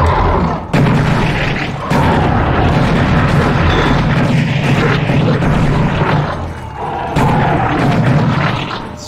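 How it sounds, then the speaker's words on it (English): Akimbo shotguns firing in the VR shooter Serious Sam VR, heavy booming blasts over constant loud rumbling combat noise, with short gaps between bursts of fire. "Let's do akimbo shotguns."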